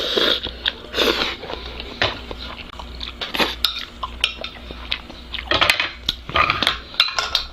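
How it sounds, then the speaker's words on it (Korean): Close-up eating of three servings of Paldo bibim cold spicy noodles, with repeated wet slurps, chewing and bites mixed with scraping utensils and clinks against a bowl, fairly loud and steady throughout, with no talking. "초간단 먹방 비빔면 3개 먹어봤습니다"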